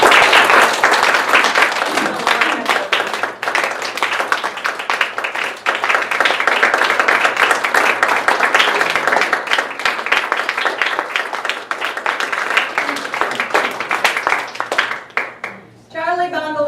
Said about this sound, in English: And you can applaud for them again.